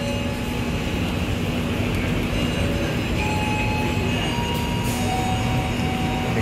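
Argo Bromo Anggrek passenger train running near Semarang, a steady loud rumble of wheels and carriage noise heard from onboard, with faint tonal hums and occasional high squeals, no talking.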